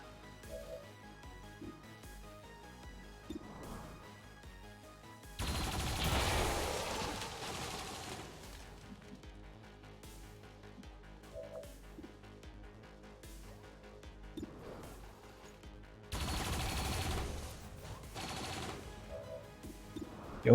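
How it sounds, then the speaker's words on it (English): Turret gunfire in the Highlander Mod Jam campaign of a tactical game: two loud broadband bursts of shots, each lasting about two seconds, over a steady hum of game music and ambience. "we're gonna start taking shots with the turrets here"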